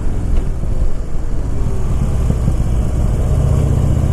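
A Harley-Davidson Dyna bagger with a 103 engine rumbles under acceleration, a loud, steady, close-up engine drone with a slight rise in pitch near the end.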